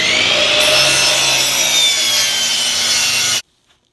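A handsaw cuts through a wooden board, the fence piece of a scarf joint jig, in steady rasping back-and-forth strokes, close and loud, stopping abruptly at the end.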